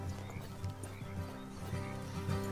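Horse hooves clip-clop at a steady walking pace in the video game Red Dead Redemption 2. The beats are quiet and soft under a dense, constant backdrop of game ambience and music.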